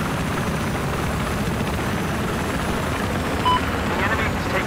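Helicopter flying in the Battlefield 4 video game, a loud, close, continuous rotor and engine roar that holds steady throughout with no pause.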